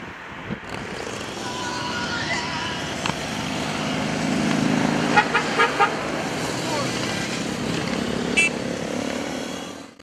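Enduro-cross motorcycles in amateur races at a bike rally, engines droning and revving at a distance amid crowd noise and occasional horn toots, with people talking over it.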